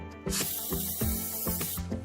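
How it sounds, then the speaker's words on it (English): Olive oil sprayed onto raw chicken tenders in a home kitchen, a series of short, close, hissing mist bursts, about five quick pumps in a steady rhythm with no talking. "Now we'll spray our chicken tenders with olive oil."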